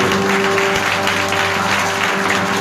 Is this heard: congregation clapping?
yes